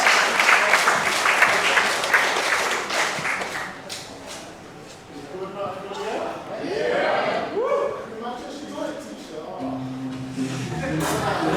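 A wrestling crowd at a NEBULA Wrestling championship match claps and cheers loudly at first, then the applause thins and fades while a commentator talks over it.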